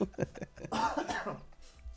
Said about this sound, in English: You're making my cough get worse.